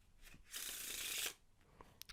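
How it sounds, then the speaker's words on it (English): A deck of playing cards being shuffled close up, one quick riffling burst of under a second, followed by a few soft card taps in a quiet setting. "I'll give the deck a shuffle first"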